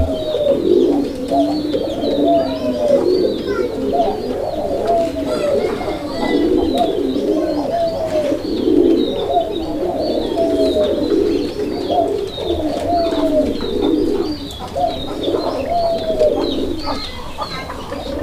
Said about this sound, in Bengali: এই জোড়াটার ডাক আপনারা দেখতে পাচ্ছেন